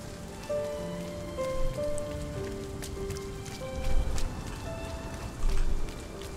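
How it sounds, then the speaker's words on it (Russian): Steady rain patters and drips on surfaces in the video game RiME, a dense continuous wash with occasional heavier swells, alongside faint tonal game music and no voices. "По-моему, даже ему по башке капельки попадают."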